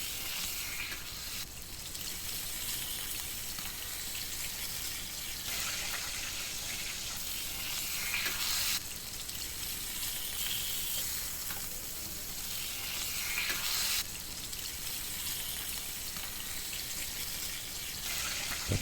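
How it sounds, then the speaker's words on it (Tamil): Masala fish fries in a pan with a steady, dense sizzle that carries on evenly and close, swelling slightly at a few moments as the oil spits, with no voices over it. "இந்த சைடு நல்லா மீன் ஃப்ரை ஆகட்டும்."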